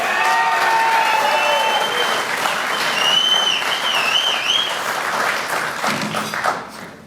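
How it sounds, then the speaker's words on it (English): Applause at an athletics Hall of Fame ceremony, a large crowd clapping loudly and continuously with some whistles on top, tapering off at the end. "Let's give Brian another round of applause"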